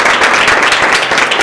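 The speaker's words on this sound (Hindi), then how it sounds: "क्या बात है मैम, के लिए जोरदार तालियां।" A brief, dense burst of audience clapping fills a network marketing gathering, loud and close, lasting only a moment.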